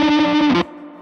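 An electric guitar through a Silverfish fuzz pedal gives a brief, buzzy, saturated burst with warbling overtones, then drops to a quieter fading tail, all within about a second and with no voices.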